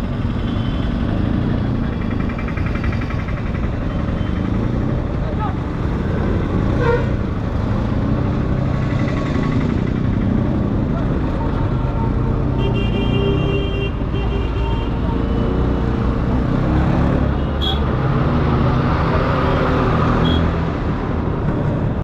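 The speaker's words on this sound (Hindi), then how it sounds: "तो भाई बहुत ही लंबी ट्रैफिक है ना ये" Engines idle and rumble steadily in a long road traffic jam, with a few brief horn toots among the vehicles and a constant low roar throughout.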